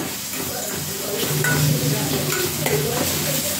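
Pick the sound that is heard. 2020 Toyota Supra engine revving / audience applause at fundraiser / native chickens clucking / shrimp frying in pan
shrimp frying in pan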